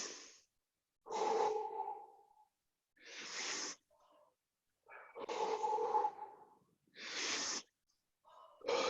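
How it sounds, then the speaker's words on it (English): Deep belly breaths taken during a workout, close and fairly quiet: slow, rasping inhales and exhales in a steady rhythm, each about a second long and separated by brief silences. "Couple belly breaths if you can get them in."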